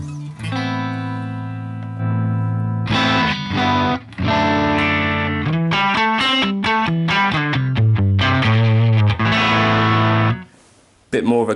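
An electric guitar played through the Line 6 Helix Ventoux amp model with the mid control scooped rings out in distorted chords and single notes, loud and sustained, ending in a brief pause and a final strum.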